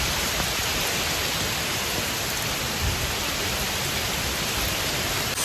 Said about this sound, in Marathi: पाऊस बघा केवढं जोरात आलोय